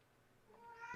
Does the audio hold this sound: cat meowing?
yes